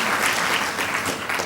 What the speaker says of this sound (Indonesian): Mari tepuk tangan buat Tuhan